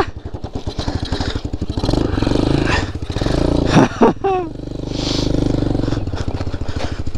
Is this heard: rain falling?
no